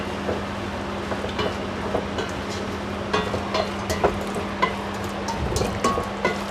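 Onions and spices are stirred in a pan over gentle heat for couscous, giving a soft, steady sizzle with scattered scraping clicks from the spoon and a low hum beneath.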